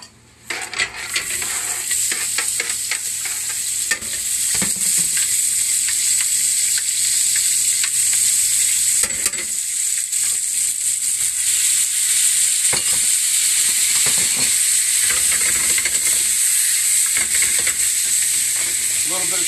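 Food fries loudly in extra virgin olive oil in a pan, a continuous bright sizzle broken by scraping and stirring clatter, with faint voice underneath.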